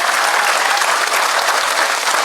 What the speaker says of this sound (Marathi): आता टाळ्या वाजवा जोरात